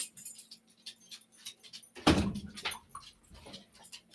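Keys jangle and a door opens with a clunk, followed by soft shuffling and rustling movement nearby.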